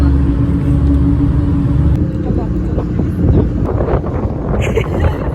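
Ferry deck underway, with a low engine rumble and gusting wind buffeting the microphone, steady and loud, while people chat and laugh nearby in the background.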